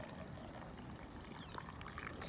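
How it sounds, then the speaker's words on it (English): Salt brine poured from a container into a jar packed with garden vegetables for fermenting, a brief continuous gurgling pour heard close up with no talk. "I already pre-mixed the salt solution. We're just gonna pour it right in"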